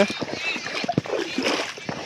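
Water splashes and sloshes in uneven bursts as someone wades through muddy rainwater floodwater, with a person talking over the movement.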